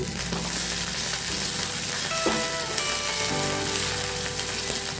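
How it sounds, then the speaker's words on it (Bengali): Garlic, chili and curry leaves sizzle and spit steadily in hot oil in a pan, a close, continuous frying crackle with occasional stirring scrapes and brief tonal clinks, no voices. "রসুন আর লঙ্কাটা একটু ভেজে নিচ্ছি"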